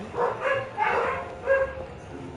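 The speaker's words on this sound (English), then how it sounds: "Sorry guys for my dogs" Several short, close dog barks in an uneven burst, three or four yips and woofs with brief gaps, over a low room background in the Batman Telltale game.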